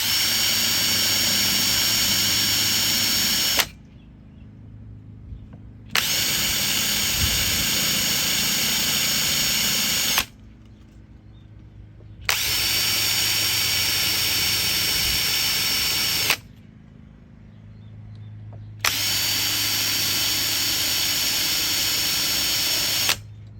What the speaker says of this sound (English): So we're gonna drill some pilot holes